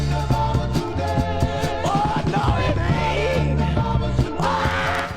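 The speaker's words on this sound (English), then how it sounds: "That's the sound of the Birmingham Spirituals on the Crown record label" Gospel record by the Birmingham Spirituals on the Crown label, playing full and steady with layered voices over instrumental backing and a continuous, dense sound at moderate volume.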